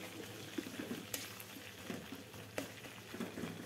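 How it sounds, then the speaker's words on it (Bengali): Dried fish fries in oil in a pan, a faint, steady sizzle and soft bubbling with a few light clicks, heard close and alone without speech. "তেলের মধ্যে শুটকিটা দিয়ে দিলাম"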